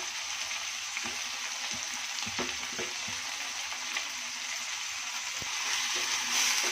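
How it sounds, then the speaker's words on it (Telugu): Tomato mixture with salt and turmeric stirred in a pan, a steady close sizzle with soft scraping stir strokes, no voices. "ఇలా బాగా మిక్స్ చేసుకోవాలి"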